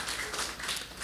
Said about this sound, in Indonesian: Kita beri tepuk tangan buat Tuhan